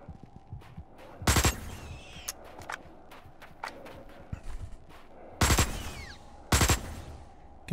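Assault rifle bursts from the video game Osiris: New Dawn, three loud, sharp volleys standing out against a quieter game ambience with scattered clicks and footstep-like taps between them.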